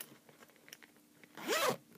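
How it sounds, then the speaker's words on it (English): The zipper on an old wallet is pulled in one quick, rasping stroke near the end, preceded by faint small clicks and handling noise in a quiet room. "And then that was like my second time using a zipper."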